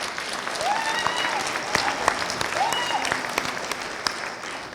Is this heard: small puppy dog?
no